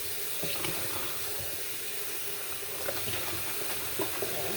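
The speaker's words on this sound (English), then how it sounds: "I'm just rinsing out the other dishes to be washed so that they can go in this hot soapy water." Tap water pours steadily into a kitchen sink while dishes are rinsed before going into hot soapy water, a continuous close rushing wash with faint clinks of dishware and no talking.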